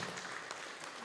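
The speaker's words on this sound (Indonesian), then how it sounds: "Tepuk tangannya yang Mulyadi." An audience at an anti-drug seminar applauds, a dense, continuous patter of clapping hands filling the room from start to finish at a steady level.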